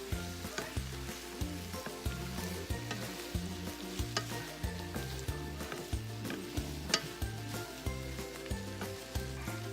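Corned beef hash with potatoes frying in a covered pan, a steady close sizzle running throughout with regular stirring scrapes and soft clinks, no voices.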